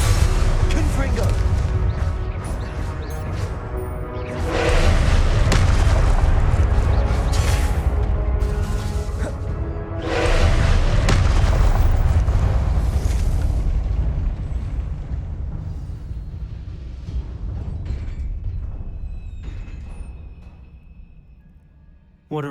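Repeated Confringo fire-blast spell explosions in the Hogwarts Legacy video game, booming bursts recurring every few seconds amid a loud rumbling game score, with heavy blasts near 5 and 10 seconds fading toward a quieter end.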